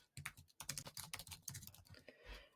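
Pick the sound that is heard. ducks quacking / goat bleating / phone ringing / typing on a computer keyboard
typing on a computer keyboard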